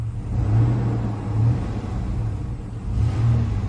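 A Chevrolet Blazer engine with a modified throttle body revs up loudly in a deep, rumbling surge, eases back, then climbs again near the end, close and alone without talk.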